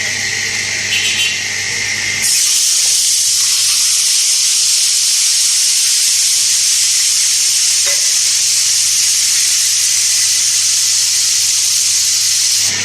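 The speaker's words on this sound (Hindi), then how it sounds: "फिर मैं तड़का लगाती हूँ।" Loud, continuous sizzling and hissing of spices tempering in hot oil for kadhi, starting abruptly after a moment and crackling steadily up close.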